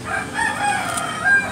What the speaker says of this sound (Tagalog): At ito po ang kanyang mga bata pa ng mga manok.